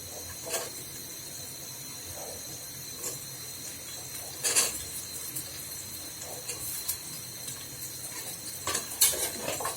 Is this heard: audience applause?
no